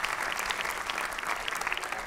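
A television comedy talk-show studio audience claps, a brisk, even wash of many hands at moderate loudness throughout, with no voices over it.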